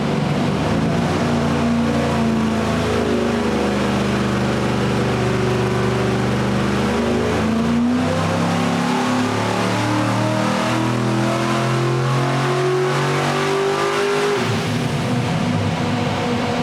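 A streamliner Hemi engine on a dyno, roaring loud and continuous through a sweep, its pitch climbing and dropping in overlapping waves before settling lower near the end, with no talk.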